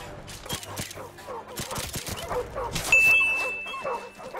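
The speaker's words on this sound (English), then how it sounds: "It's a wild dog." A wild dog barks a few times in the Modern Warfare Remastered campaign, mixed with gunfire, a ding and game effects, while voices talk over it.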